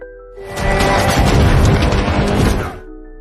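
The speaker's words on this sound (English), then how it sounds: "An explosion follows." A loud, close landmine explosion booms and swells into a sustained rumbling roar of debris and noise lasting a few seconds before cutting off.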